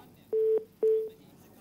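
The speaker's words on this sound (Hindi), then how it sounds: "फिर से फोन काट दिया है" A telephone disconnect tone sounds after a call to a medical college principal is cut off during a live news phone-in: two clean, identical beeps, each about a quarter second, close and clear with nothing else around them.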